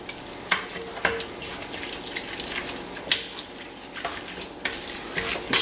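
Garlic being stirred into sausage sizzling in a pan: a constant hiss of frying broken by repeated scraping clicks of a utensil against the pan, close and moderately loud, with no talking.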